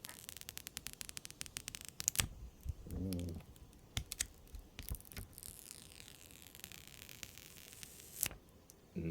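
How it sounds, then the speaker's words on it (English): Protective plastic film peels off a new white iPhone SE in a string of quick crackles and sharp clicks, with a brief soft rustle near the start; the sounds are close and fairly quiet, and no one speaks. "let's get some plastic peeling here."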